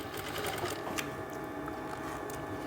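A sewing machine stitching a narrow quarter-inch seam on a full-flare umbrella skirt, a steady fast mechanical whir with rapid needle ticking, close and continuous.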